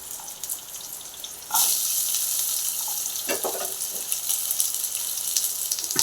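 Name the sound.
shallots and garlic frying in hot coconut oil with fenugreek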